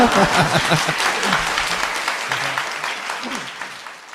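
An audience claps in a steady burst of applause at a Korean talk show taping, loud at first and slowly thinning out as a voice speaks faintly underneath.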